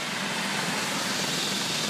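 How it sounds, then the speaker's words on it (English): A helicopter flying over a park makes a steady, broad rushing roar with no break, loud and continuous, with no voices over it. "Look at the helicopter."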